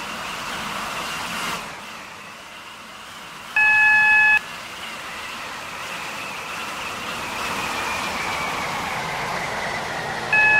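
Train running in the SCR (Stepford County Railway) video game on a Waterline service, a steady rolling drone with two short bright electronic beeps, one near the middle and one at the end, with no talking.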